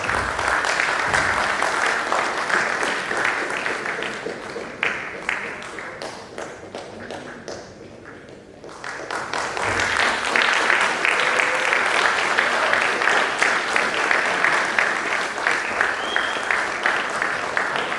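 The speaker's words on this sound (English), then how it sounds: "I think this is worth a huge round of applause" Audience applause fills a stage award ceremony as dignitaries present a trophy, a dense, sustained clapping from a large crowd that dips briefly midway and then swells back to full strength.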